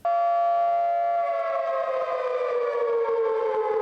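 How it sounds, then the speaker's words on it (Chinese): A civil defense style siren blares at a climate protest outside a conference venue, a loud steady wail that holds its pitch and then slowly slides downward, with no talk over it. "警报器大响"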